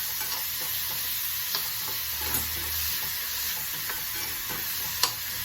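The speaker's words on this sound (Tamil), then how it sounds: "கடுகு, வெங்காயம், அதோடைய தக்காளியும் போட்டுக்கலாம்" Mustard seeds, onion and half a tomato sauté in a pan for a simple peas curry lunch, giving a steady close sizzle throughout with a few faint stirring scrapes and one sharp click near the end.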